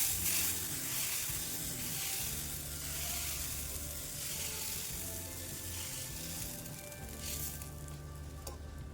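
A mung bean and spinach dosa sizzles steadily on a hot, oiled tava, giving a continuous loud frying hiss with no break.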